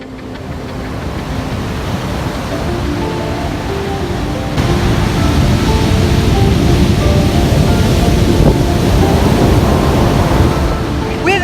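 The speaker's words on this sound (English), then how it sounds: "We are in the Black Sand Beach" Broad, steady roar of surf on Iceland's Black Sand Beach on a sunny day, continuous and fairly loud with wind mixed in, swelling slightly louder partway through and carrying no speech.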